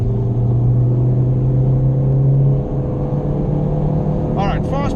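Honda Civic Type R FK8 lapping the Nürburgring Nordschleife, heard from inside the cabin: a loud, steady engine drone with road and wind noise, a brief dip partway through like a gear change, then a few short high chirps near the end.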